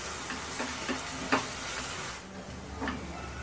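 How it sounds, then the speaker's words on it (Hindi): Green chili and ginger garlic paste fry in a pan for Dhaba style egg bhurji, giving a steady close sizzle with a few soft stirring scrapes and no talk. "1-2 मिनट इसको अच्छे से हम फ्राई कर लेंगे ताकि हरी मिर्च और अदरक लहसुन का कच्चापन चला जाए।"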